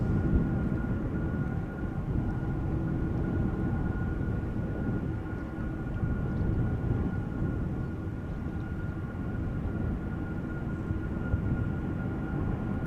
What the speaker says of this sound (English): Delta Airlines flight 137 to Detroit has become visible and is coming this way.